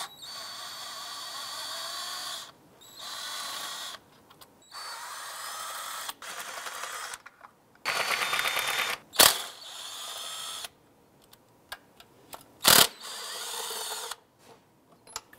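A power tool with an 8mm socket runs in repeated bursts, removing the bolts around the lower intake on a Jeep Wrangler JK, close and loud, with ratcheting clicks and sharp metallic knocks between spins.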